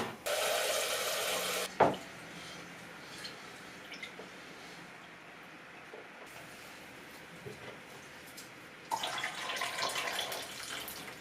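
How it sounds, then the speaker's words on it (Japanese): Tap water runs into a sink to rinse rice, a loud hiss at the start and again near the end with a quieter, drippy, stirring stretch between, and no talk. "1回だけさらっと洗って"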